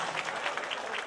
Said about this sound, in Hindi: एक बार जोरदार तालियों से आशीर्वाद जरूर दे दे